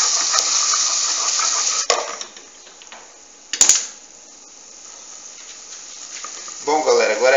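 Okra stirred in a pan so it won't stick: a sizzle and scraping that fade into quieter frying, broken by a sharp utensil knock midway, with a voice coming in briefly at the end.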